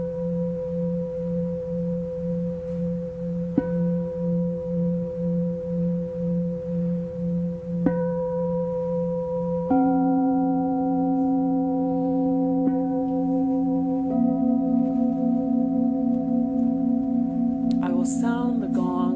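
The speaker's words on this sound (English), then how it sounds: "Sound the gongs, drawing the meditation to a close." Meditation gongs sound in sustained, pure ringing tones, with new strikes layering higher pitches over a steady pulsing drone, calm and fairly loud, ending with brief bright shimmering notes.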